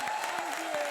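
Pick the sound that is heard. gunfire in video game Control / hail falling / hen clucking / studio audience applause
studio audience applause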